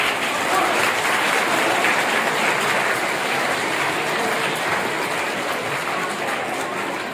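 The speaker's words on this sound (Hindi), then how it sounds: "एक बार फिर से ताली" A hall audience applauds at a musical event of Atal Bihari Vajpayee's poems, a dense, even wash of clapping sustained throughout at strong level.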